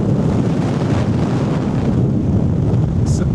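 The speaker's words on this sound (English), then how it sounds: "it is blowing a gale" Strong gale-force gusts buffet a small wireless microphone at a Dorset seaside resort, a loud continuous roaring rumble that fills the whole stretch with no voices.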